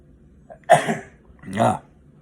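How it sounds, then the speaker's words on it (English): A person sneezes close by: a short intake of breath, then two explosive, breathy bursts about a second apart, loud and with no talking around them. "I'm gonna sneeze, hold on."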